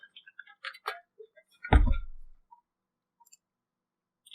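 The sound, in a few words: ticking alarm clock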